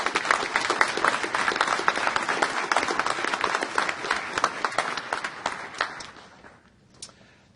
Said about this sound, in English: Please give them a warm round of applause for the wonderful music that they provided